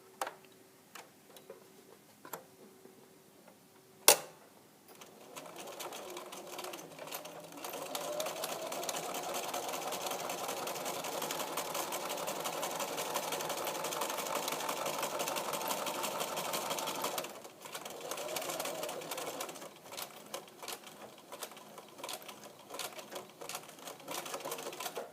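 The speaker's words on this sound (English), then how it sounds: "you're going to backstitch and sew up to the top." A sewing machine stitches up the inside pocket of a duffle bag, a few separate clicks and a sharp knock first, then a sustained close whirring run of about twelve seconds, followed by short, ticking bursts of stitching.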